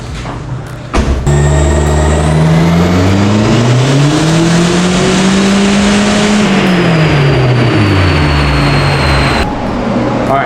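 A race car engine revs hard on a dyno, the eddy brake loading it to build boost: loud, continuous engine roar with pitch climbing then falling over about ten seconds, ending with a brief drop.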